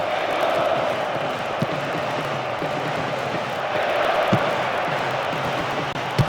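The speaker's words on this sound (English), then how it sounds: "you can hear the relief from the crowd" A stadium crowd in PES 2009 roars in a steady, dense wash of cheering that holds at a fairly loud level throughout, with a few faint thumps breaking through.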